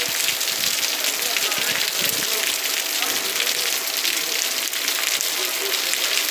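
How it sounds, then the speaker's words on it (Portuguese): Heavy storm rain pours steadily in a town square in Mato Grosso, a dense, loud and continuous hiss of downpour with no break. "Muita chuva."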